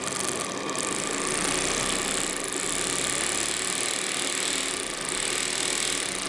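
A model boat steam engine runs up to speed, giving a fast, even mechanical chatter with a ratchet-like tick that holds steady and moderately loud throughout, with no talk.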